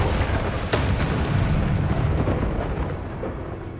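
Bursting spell explosions in the video game Hogwarts Legacy, a dense roaring blast with crackling debris that swells and then slowly fades, with no speech over it.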